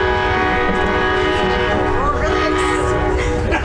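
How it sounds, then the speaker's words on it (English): A train rumbles loudly past at close range, its horn blaring in sustained tones over the steady roar of the rail cars, drowning out the outdoor setting of a ceremony. "I knew that train was coming through"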